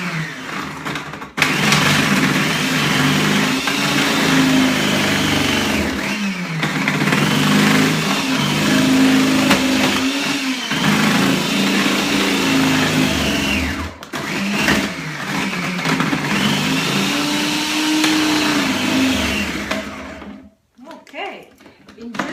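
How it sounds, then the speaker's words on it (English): A food processor shreds carrots with a loud, steady motorized whir that runs for about twenty seconds, dips briefly midway, then cuts out near the end. "put our carrots into the food processor"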